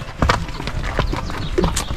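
Horse hooves clip-clop in a steady uneven rhythm as a horse is ridden over rough ground in Mongolia, close and fairly loud against outdoor background noise.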